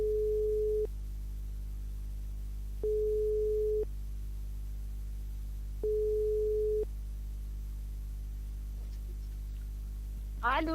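A French telephone ringback tone sounds while a call is placed, three evenly spaced steady beeps separated by pauses over a constant low hum, with a brief burst of voice at the very end.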